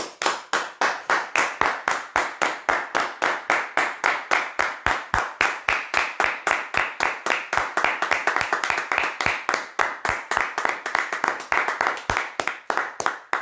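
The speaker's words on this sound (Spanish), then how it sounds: "el último aplauso te lo damos aquí en La Leona Pelusa" A group in a television studio claps in slow, steady unison as a final tribute to a late friend, Pelusa, with dozens of sharp, evenly spaced claps that speed up slightly toward the end.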